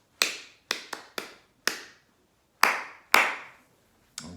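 Hand claps beat out a familiar classroom call-and-response rhythm: seven sharp, close claps in a quick broken pattern, with brief ringing after each and nothing else heard.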